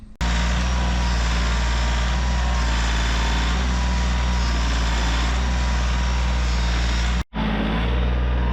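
A tractor engine runs at a steady, loud low idle-like rumble, continuous for several seconds before a brief cutout near the end, then resumes.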